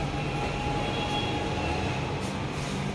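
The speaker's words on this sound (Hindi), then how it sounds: "सो नाउ हम मेट्रो स्टेशन में, मेट्रो में।" Steady interior rumble of a Delhi metro train in motion, a dense continuous roar with a faint high whine and no voices, loud and close throughout.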